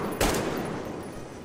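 A gun firing in the video game Metro Exodus: one loud, sharp blast near the start that trails off into a ringing, noisy decay.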